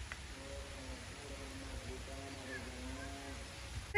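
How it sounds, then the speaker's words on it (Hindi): Steady rain pours down in a continuous hiss, with a faint low tonal hum running underneath and no voices. "इस साइड से बहुत ही तेज़ तेज़ बारिश आ रही है"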